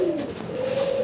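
Fancy pigeons (Mukhi breed, silver coloured) cooing close by, a low steady rolling coo lasting about a second, with no talk.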